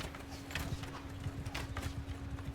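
Horse hooves clop steadily and quickly during a medieval cavalry battle in Mount & Blade II: Bannerlord, a continuous rhythmic patter with a low hum underneath and no voices.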